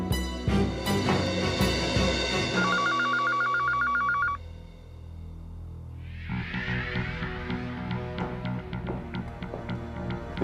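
A telephone rings in a domestic drama scene, its tone standing out loud and close over background music with no talk.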